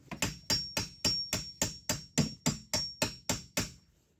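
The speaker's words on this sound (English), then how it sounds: "we're gonna have to get a hammer in there and break some of it" A hammer knocks at hardened caulk on a Porsche 944 front fender, fourteen sharp, evenly spaced metallic blows ringing close and loud with no talk over them, the strikes fading out at the end.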